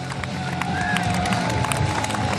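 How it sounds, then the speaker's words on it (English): Arena crowd at a STIHL Timbersports Australian Trophy event cheers and claps steadily for two woodchopping athletes taking the stage, a loud continuous roar with scattered whoops and sharp clap bursts throughout. "please give a huge round of applause to get these two athletes onto stage"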